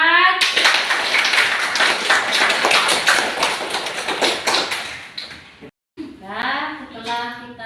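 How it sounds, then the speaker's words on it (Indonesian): An audience claps for group 4 in a dense burst of applause that fills most of the moment, fading out before a short pause, after which a voice speaks. "Kita kasih aplaus sekali lagi untuk kelompok 4."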